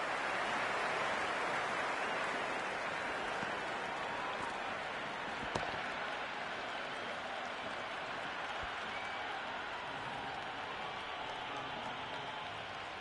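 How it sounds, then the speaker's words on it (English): Steady crowd cheering and applause in a Cricket 26 match between Karachi Kings and Peshawar Zalmi, a broad continuous roar that stays loud throughout the clip with no clear talk over it. "The crowd love that one."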